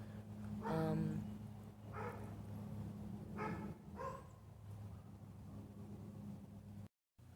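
A few dog barks ring out in short bursts, with a steady low mechanical hum running underneath throughout.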